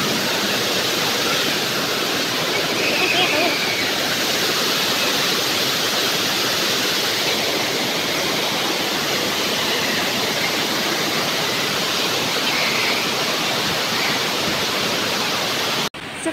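Rushing water at Hogenakkal waterfall roars as a dense, steady, loud wash of noise that stays constant throughout before cutting off abruptly at the end.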